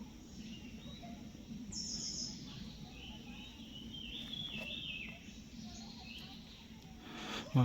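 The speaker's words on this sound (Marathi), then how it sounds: "शांत वातावरणात पक्ष्यांचा किलबिलाट बघा तुम्ही ऐकू शकता" Faint birds chirp at intervals over a low, steady outdoor background in quiet countryside near Mahalakshmi Gad, Dahanu, with a brief louder noise near the end.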